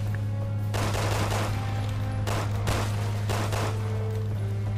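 Gunfire from a pistol in the action game Resident Evil 6: several bursts of overlapping shots in clustered volleys, fairly loud over a steady low game hum, with no talking.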